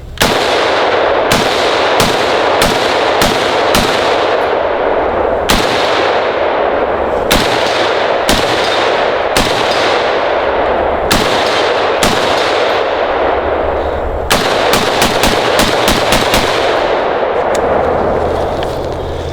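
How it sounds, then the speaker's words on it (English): An H&K MR762 rifle firing unsuppressed 7.62x51 NATO rounds, a long series of loud, sharp reports, some spaced a second apart and others in quick strings, each ringing off in a brief echo. "let's fire a few rounds, see how this thing feels. Unspressed first few rounds"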